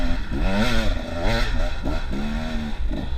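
A two-stroke enduro dirt bike engine revs loud and close, its pitch climbing and dropping in repeated throttle blips over a steady rough idle, with no talking.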